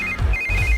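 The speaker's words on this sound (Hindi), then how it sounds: "इस वक्त दीदी का फोन।" A telephone ringing in a Hindi-dubbed South Indian movie, a steady electronic ringtone tone with a low pulsing undertone, clear and alone over a short burst.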